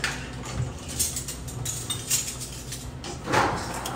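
Pans and utensils clink and scrape in a home kitchen while eggs fry, with several light metallic knocks scattered through a steady sizzling background.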